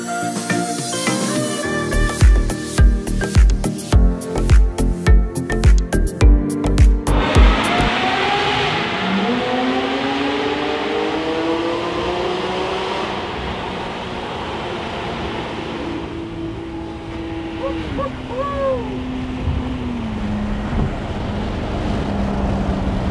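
A loud sports car engine revs hard in sharp bursts while overtaking in a tunnel, then settles into a long roaring drone that echoes and rises and falls in pitch.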